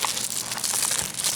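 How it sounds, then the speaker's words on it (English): Plastic shrink wrap is peeled off an anime DVD case in a steady, close crinkling and tearing rustle that lasts the whole moment, with no talk. "let's just create a rupture in the plastic like so. Start peeling it off."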